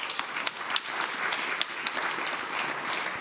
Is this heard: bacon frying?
no